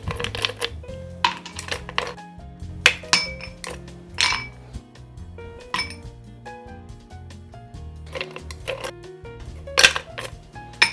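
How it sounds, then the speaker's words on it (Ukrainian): Ice cubes dropped into a rocks glass for a gin cocktail: repeated sharp clinks and clatters of ice hitting glass in irregular bursts, close and fairly loud with no speech. "Для подачі цієї версії використовуємо ROX. Також додаємо в неї лід."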